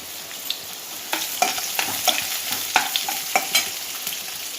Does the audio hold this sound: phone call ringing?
no